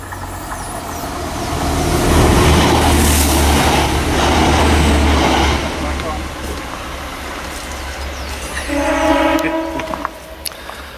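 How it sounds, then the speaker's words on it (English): A train rumbles past close by near Arnside Knott, loud low rumble swelling and fading, with a short horn-like tone near the end. "So here comes the train."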